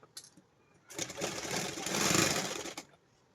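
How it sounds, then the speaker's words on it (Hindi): A sewing machine stitching a pocket onto trousers. A close, steady mechanical whir runs for about two seconds, swelling slightly in the middle before stopping, with a few small clicks just before it starts. "हाँ देखो इस तरीके से पहले मैं इधर से सिल देती हूँ इसे"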